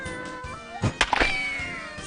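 A single cat meow sound effect from the You Don't Know Jack Sports video game, a short rising-falling cry over faint background game music.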